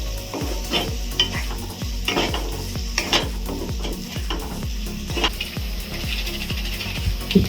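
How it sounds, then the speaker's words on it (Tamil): Tomatoes and vegetables for veg kurma sizzle steadily in a hot pan while a spoon stirs and scrapes in a regular rhythm, with occasional metallic clinks against the pan. "இது எல்லாம் சேர்த்து நல்லா வதக்குங்க."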